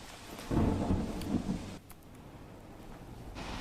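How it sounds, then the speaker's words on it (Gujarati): Heavy rain pours in Ahmedabad in a steady rushing hiss, with a louder low rumble at first like distant thunder, then a continuous downpour. "સવારે 9 વાગ્યાથી સતત ભારે તીવ્રતા સાથે વરસાદ વરસી રહ્યો છે"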